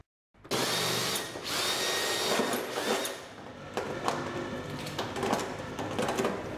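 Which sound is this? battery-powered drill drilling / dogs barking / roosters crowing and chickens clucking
battery-powered drill drilling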